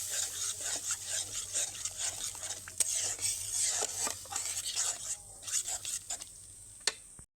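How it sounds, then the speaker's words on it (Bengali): Spice masala with a little water being stirred in a pan, a spatula scraping and clinking against the metal in an irregular rhythm over a soft simmering hiss, close and moderately loud with no talking. "এইবার সামান্য পরিমাণে জল দিয়ে মশলাটা ভালোভাবে কষিয়ে নেব"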